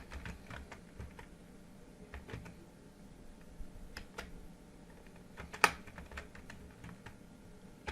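Typing on a computer keyboard: scattered, quiet key taps at close range with irregular pauses and one sharper, louder keystroke, with no voice.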